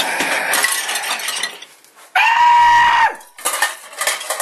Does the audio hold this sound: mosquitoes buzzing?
no